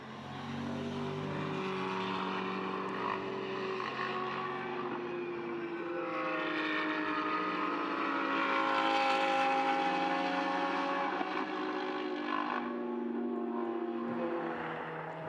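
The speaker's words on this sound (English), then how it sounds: "Very much enjoying the soundtrack of Trofeo GTS machinery, the flat sixes in the Porsches, the V8s in the Ferraris, the V10 in the Lamborghini" Trofeo GTS race cars with Porsche flat-six, Ferrari V8 and Lamborghini V10 engines drone together on the Mugello circuit, a continuous layered engine roar rising and falling as the pack passes at middle distance.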